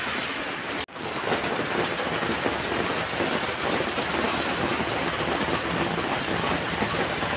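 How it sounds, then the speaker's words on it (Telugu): Heavy rain falls in Ooty, a loud, dense and steady hiss of water striking surfaces close by, continuous apart from one brief dip near the start, with no one speaking. "ఫుల్ వర్షం ఊటీలో."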